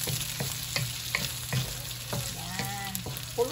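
Green onion being stir-fried with shredded beef in a hot pan, a steady sizzle broken by repeated spatula scrapes and clinks, close and without talk.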